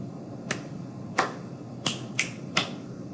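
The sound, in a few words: finger snapping rhythm pattern, body percussion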